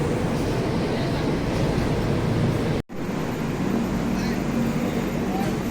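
Netravathi Express passenger train rolling along at steady speed, a continuous loud broadband rumble with rattling carriages heard from inside, briefly cut by a momentary dropout midway.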